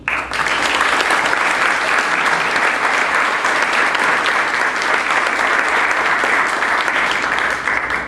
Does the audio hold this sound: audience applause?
yes